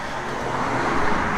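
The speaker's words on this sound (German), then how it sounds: "Kommt ein Auto hoch." A car climbs a warm coastal cliff-top path on Mallorca near Cala Santanyí, a broad, steady engine and road rumble that swells slightly as it draws nearer, with no talking.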